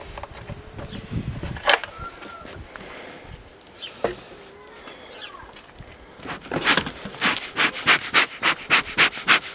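Honey bees around a small hive, a faint buzzing hum in the background with scattered handling clicks and rustles, ending in a run of regular soft thumps or scrapes.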